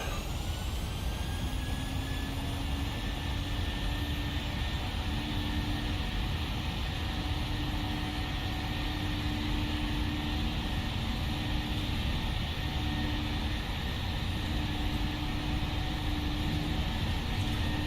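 A PMDG airliner takes off at Atlanta in the Prepar3d flight simulator, its jet engines giving a loud, steady roar with a thin whine on top that holds for the whole stretch, with no talking.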